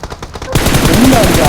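Rapid automatic gunfire bursts from a shooting video game start abruptly after a quiet half-second and keep going loud and dense, with a voice partly heard underneath.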